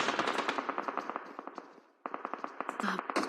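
Rapid automatic gunfire in the PUBG Mobile video game during a SEA Games team match, with dense bursts of sharp shots, a brief pause, then another volley, while a voice talks faintly underneath.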